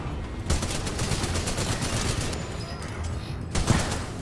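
Rapid automatic gunfire from a weapon in Titanfall 2 forms a dense, continuous barrage with sharper bursts near the start and end, under a low game rumble.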